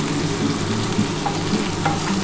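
Mixed vegetables seasoned with salt and a little sugar fry loudly in a pan as they are stirred, a thick close sizzle with soft scraping of the spoon throughout and no voices.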